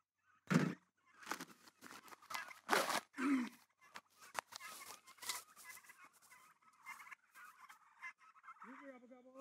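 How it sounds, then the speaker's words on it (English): Flock of meat turkeys gobbling on a farm at feeding time, with repeated loud bursting gobbles near and farther off, overlapping in an uneven chorus. "these are our meat birds, our meat turkeys, rather."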